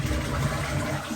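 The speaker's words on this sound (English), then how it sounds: "when you flush the toilet, so like I'll flush it" A toilet flushing in a Japanese apartment bathroom, a steady close rush of water running throughout the short stretch with no talk over it.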